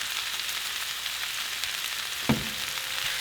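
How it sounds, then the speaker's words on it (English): Chile poblano pepper strips frying in a pan give a steady, close hiss and crackle, with a single brief knock or stir partway through. "we're going to fry them for 2 more minutes"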